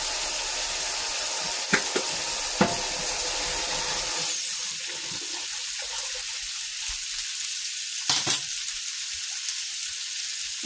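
Food frying in a pan gives a steady loud sizzle throughout, with a few sharper crackles and pops rising above the hiss.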